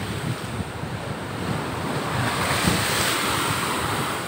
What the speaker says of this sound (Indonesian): gelombang pasang ini gelombang pasang